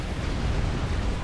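Tank gunfire from Obsidian tanks in the real-time strategy game Supreme Commander: Forged Alliance, heard as a dense, continuous rumble of overlapping booms and blasts at steady loudness throughout.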